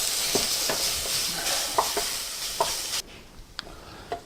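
Meat for scouse browning in a pan after gently softened onions, a steady broadband sizzle with a few stirring knocks, dropping quieter near the end.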